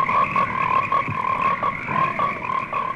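Frogs croaking in a 1970s horror film trailer, a close, loud chorus of rhythmic, repeating croaks heard alone without any voices.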